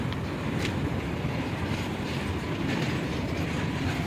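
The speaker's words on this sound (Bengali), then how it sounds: "এটা হচ্ছে মাল ট্রেন এই মাল বজায় করা যাচ্ছে কয়লা আছে দেখো" A long coal-laden freight train rolls past on a Kolkata railway line, a loud, continuous rumble with rhythmic wheel clatter close by, no voices.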